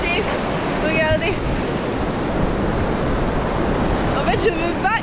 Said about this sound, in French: Il y a d'énormes vagues.